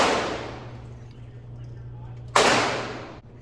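Two loud gunshots at an outdoor gun range, the first at the very start trailing off into a long reverberant decay, the second a sharp crack about two seconds later that rings out briefly before cutting off.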